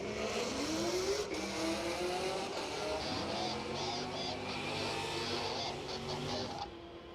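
A 2018 stick-shift Camaro races down a drag strip at a Door Wars event, its engine rising in pitch through the gears with a steady loud roar that fades slightly at the end.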